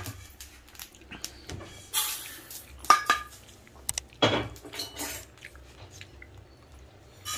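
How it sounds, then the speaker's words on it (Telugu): Sesame seeds roasting in a pan on the stove for a drumstick and sesame curry, heard as scattered metallic scrapes, clinks and light sizzling clatter, with brief louder stirring bursts and no talk. "నువ్వులు వేయించుకోవాలండి. నువ్వులు ఎర్రగా"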